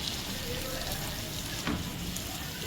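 Cooked okra (bhindi) sizzles loudly and evenly in a pan while a spoon stirs it, with one brief scrape of the spoon partway through.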